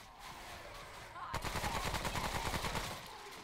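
Rapid automatic gunfire from a video game shooter, Remnant: From The Ashes, opens abruptly after a quiet start and runs as a steady burst of close, loud shots for about two seconds before fading.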